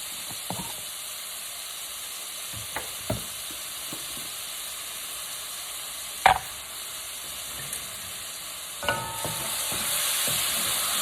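Garlic sautés in a pan with a low, faint sizzle broken by a few scattered clicks and clinks of a utensil, and the hiss swells louder near the end.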